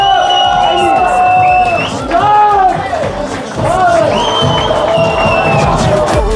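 Guests at an engagement celebration clap and cheer for the newly engaged couple: a loud, close burst of crowd cheering with whoops and children's shouts, dipping briefly mid-way before swelling again.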